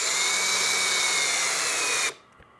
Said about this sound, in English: I'm not gonna get them tight with this drill.